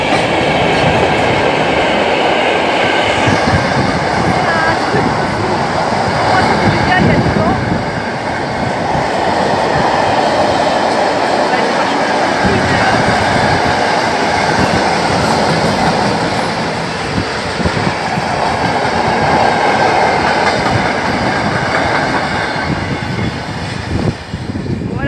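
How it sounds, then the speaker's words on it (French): A freight train hauling car-carrier wagons rolls past close by for a long stretch, a loud, steady rumble with rhythmic clatter of wheels over rail joints and brief squeals. "Il y a un train marchandises qui va passer"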